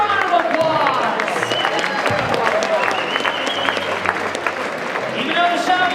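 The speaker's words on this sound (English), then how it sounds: "Give a round of applause." Basketball game crowd in a gym breaks into applause, steady clapping mixed with crowd noise and some shouting voices, close and fairly loud throughout.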